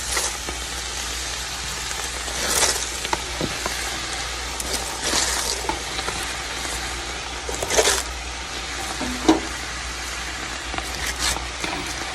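Cabbage cooks in a hot pan with a steady, soft sizzle like light rain, with occasional louder crackles and pops over its twelve seconds, no talk.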